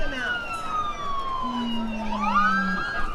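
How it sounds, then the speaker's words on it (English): Several sirens wail together at the start of a festival parade in Yoakum, Texas, sliding slowly up and down in pitch and overlapping, with steady street noise beneath them. "Hear the sirens, you see the flags, that means the parade is starting."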